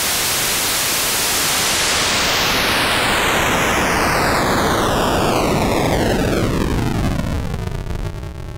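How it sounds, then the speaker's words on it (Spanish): Decimator noise from a Korg Minilogue XD synthesizer: loud, harsh digital static that is steadily bit-crushed, with descending whistling harmonic bands sweeping downward over about eight seconds, played alone. "El último tipo de ruido se le conoce como decimador y significa que le estamos quitando o matando armónicos al ruido"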